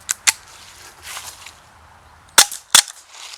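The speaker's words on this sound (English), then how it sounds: "People are shooting me left, right, and center." Paintball pistols firing during a game with RAP4 RAM Walther P99 .43 caliber blowback markers: sharp cracking shots, two near the start and two louder ones near the end, over quiet outdoor background.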